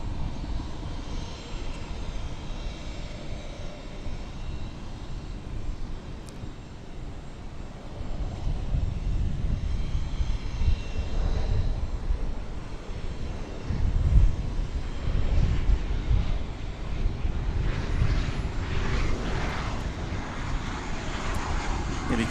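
An airliner arriving at DFW Airport from Columbia, Missouri, on a clear morning roars as a broad, sustained engine rumble that swells louder partway through, with some wind buffeting the microphone.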